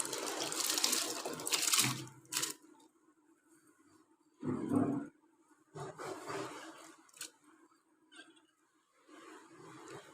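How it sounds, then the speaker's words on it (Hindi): Rice tipped into a pot of hot water heating on a stove, giving a few short watery splashes and stirring sounds separated by quiet gaps, close by. "तो अब पानी गर्म हो गया तो इसमें चावल ऐड करेंगे।"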